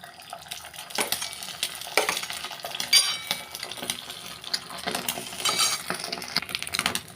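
Salted, beaten egg is poured into the cups of a hot paniyaram pan, giving a broad sizzle and liquid splashing with scattered metallic clinks, at moderate level and without talk.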